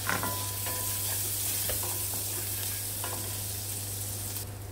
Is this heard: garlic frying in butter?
yes